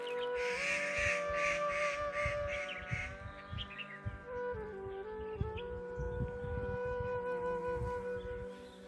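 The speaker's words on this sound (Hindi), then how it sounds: "ये जो चिड़ियाँ हैं ना प्रकृति, इनकी आवाज़ सुनो बस, आपस में इनकी कम्युनिकेशन" Crows and other birds calling in a forest village, with repeated harsh caws and chirps over a steady tonal drone, moderately distant, no voices.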